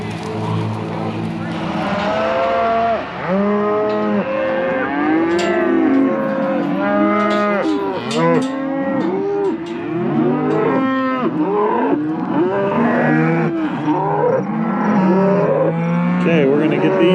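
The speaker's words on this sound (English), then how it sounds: "we're gonna get these cows down this alley" A herd of cattle moos loudly and almost without a break as they are driven down an alley, many overlapping calls near and far under a steady background rumble.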